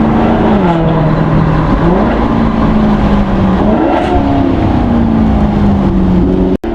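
A car engine pulls hard and close, its pitch climbing and dipping through several gear changes in a sustained loud drone, with a brief sharp dropout near the end.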